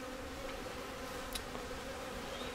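Honey bees buzz around a hive being split, a continuous steady drone close by and fairly faint, with no voices.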